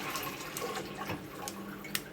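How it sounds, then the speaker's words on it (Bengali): Milk is poured into a vessel at home to make homemade cheese (paneer). A soft, close, continuous splashing stream runs for a couple of seconds. "আমি ঢেলে নিতেছি দুধগুলা।"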